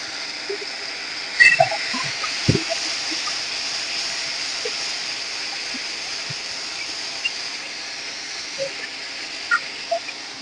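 Green chilies and onion hiss and sizzle in hot frying oil, a steady broadband frying noise with a few faint pops and clinks, no talking.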